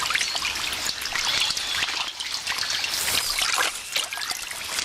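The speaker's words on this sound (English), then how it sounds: "The floods have driven the armadillo out of her burrow and into the swollen river to swim for her" An armadillo swims for her life in a flooded, swollen river, with steady rushing and trickling water close by and bright splashy churning throughout, no voices.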